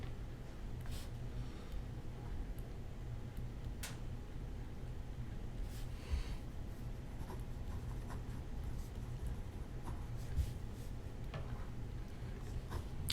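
Handwriting strokes scratch faintly in short irregular bursts against a quiet room hum as a chemical structure of acetic acid is drawn.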